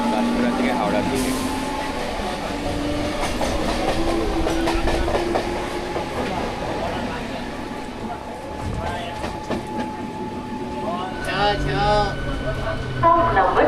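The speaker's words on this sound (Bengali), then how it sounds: "একটা গাড়ি কিন্তু যাচ্ছে পাঁশকুড়া থেকে হাওড়ার দিকে" A train rolls past a platform on the line from Panskura toward Howrah with rumbling wheels and some clatter, while people talk nearby and a brief whistle-like tone rises near the end.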